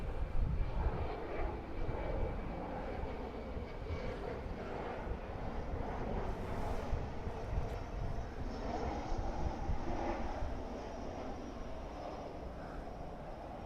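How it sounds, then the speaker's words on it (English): A jet aircraft on approach to Francis S. Gabreski Airport on Long Island, a steady broad engine roar heard outdoors from a distance, constant in loudness with some wind noise and no talking. "Oh, here comes a jet in now."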